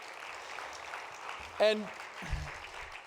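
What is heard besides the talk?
audience applause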